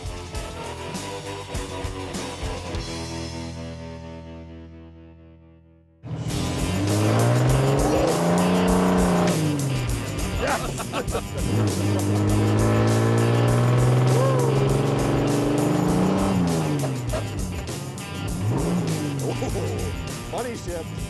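A rally car built from a Galaxie roars off with a loud, raw exhaust, engine revving and dropping through gears, tires squealing, close and dominant over the whole stretch after a brief fade.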